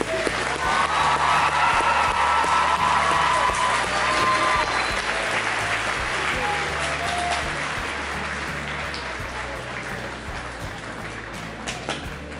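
A crowd at a Walk of Fame honoree introduction breaks into sustained applause, loud and dense at first, then gradually thinning and fading toward the end.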